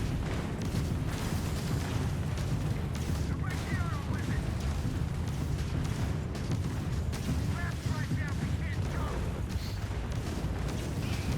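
Spaceship combat in Starfield, with a steady barrage of heavy weapon fire, booming impacts and explosions rumbling continuously, while a person talks intermittently over the din.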